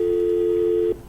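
A steady telephone line tone drones loud and unbroken for nearly a second after a call is hung up, then cuts off abruptly into faint line noise.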